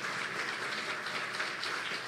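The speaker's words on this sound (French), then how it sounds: "Let's clap for our pastor this morning." A church congregation claps for its pastor during a morning service, a steady wash of applause from many hands filling the room without a break.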